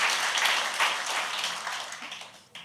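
Applause from a church congregation at a thanksgiving service, a dense steady wash of clapping that slowly fades over a couple of seconds.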